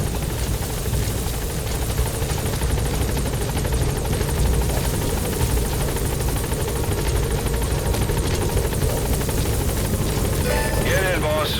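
A video game support helicopter arrives in Metal Gear Solid 5: The Phantom Pain, its steady, loud rotor thrum and engine drone filling the scene continuously, with voices talking faintly over it.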